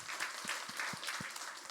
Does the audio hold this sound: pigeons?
no